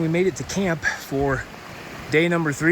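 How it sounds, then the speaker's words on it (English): A small mountain creek runs steadily beside a backpacking camp on the Uinta Highline Trail, its constant watery hiss sitting underneath a man's close, continuous talking. "kind of over here by nice water source, nice little creek"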